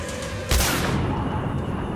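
A single loud gunshot from the video game Singularity cracks out close by, followed by a ringing decay over a steady noisy background.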